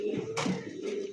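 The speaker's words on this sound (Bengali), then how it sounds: "কালো কুচকুচে একজোড়া বোম্বাই কবুতর" A pair of jet-black Bombai pigeons coo close by, a low soft murmur running steadily through a short moment with no voices.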